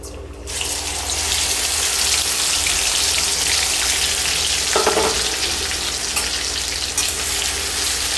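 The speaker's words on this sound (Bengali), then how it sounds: "এখন আমি এটাকে পুরো লাল করে ভেজে নেব।" Boiled, mashed cabbage frying in a pan of oil with garlic and green chili, a loud, continuous close sizzle with stirring scrapes and a brief clatter midway, no talk.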